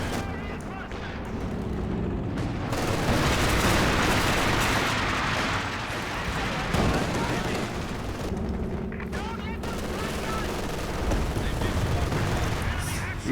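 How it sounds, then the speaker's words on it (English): Katyusha rocket artillery fires in Company of Heroes 2 amid a 4v4 match, a dense, loud rumbling barrage of launches and explosions that stays steady throughout, with commentators talking over it. "Every time these Katyushas fire, they do some work."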